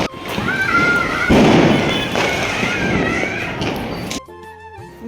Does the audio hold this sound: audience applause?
no